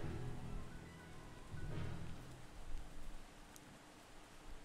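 Steady rain hisses and patters over a broad wash of noise, with a low rumble underneath that may be distant thunder, continuous and fairly quiet throughout.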